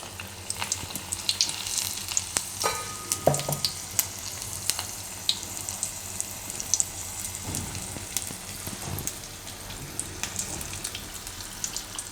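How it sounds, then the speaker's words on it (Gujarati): Batter-coated baby corn deep-fries in hot oil on a low gas flame, a steady crackling sizzle with scattered sharp pops and some louder bursts. It is close and moderately quiet, with no talk. "ને તેલમાં તળી લેવું ગેસ ધીમો કરી દેવું"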